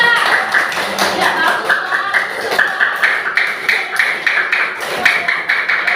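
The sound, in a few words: class clapping for group 3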